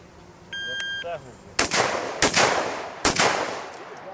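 Three loud gunshots from a practical shooting training session, close and spaced under a second apart, with a short electronic timer beep just before the first shot.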